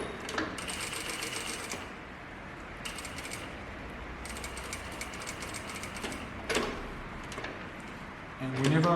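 A sewing machine stitches a button-up shirt in several short bursts with back-tacking, its rapid mechanical whirr nearby while a person talks over it.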